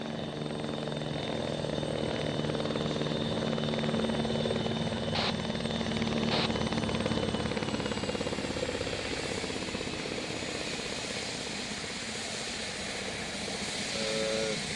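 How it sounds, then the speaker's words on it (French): A troubled helicopter in the military video game ARMA III, a loud, steady rotor and engine roar that persists throughout with a slight shift in tone partway, no voices over it. "Il a un problème l'hélico."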